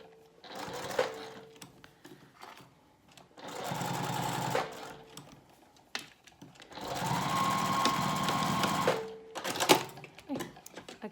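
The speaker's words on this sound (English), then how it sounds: "I'm going to stitch these two ends together." A sewing machine stitches the elastic ends of a fabric face mask in two clear close bursts, each a steady whir of a few seconds separated by quiet handling sounds.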